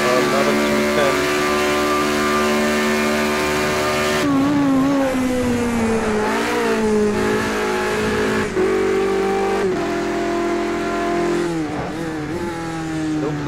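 Formula Renault race car engine in Project CARS 2, a loud sustained high-pitched whine that rises and falls through gear changes and revs, continuous throughout.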